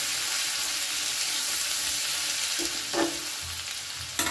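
Ginger-garlic paste and coriander powder sautéing in a pan for an egg kofta dish, a steady close sizzle with occasional spoon knocks and scrapes against the pan, no voices.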